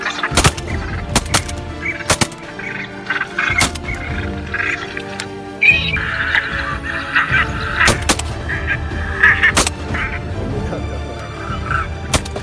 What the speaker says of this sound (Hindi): मुर्गाबी आ गया यार चार